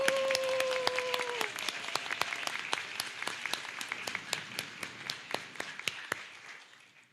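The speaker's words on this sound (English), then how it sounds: "Could you please stand and everyone give her a round of applause?" Audience at a U.S. Army apology ceremony in Wrangell applauds steadily throughout, dense clapping with sharp individual claps standing out, while a brief electronic tone sounds at the start.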